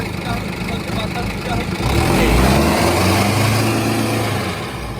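Modified Arjun 555 tractor, boosted to 75 horsepower, its engine running loud and close in a steady drone that swells as it is pushed harder partway through, then eases slightly.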